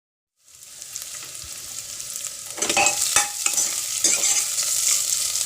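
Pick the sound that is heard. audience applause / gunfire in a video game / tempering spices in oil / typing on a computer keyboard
tempering spices in oil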